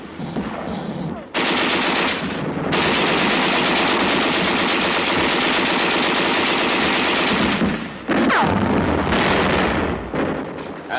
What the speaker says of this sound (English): There is some machine gun fire and occasional shells,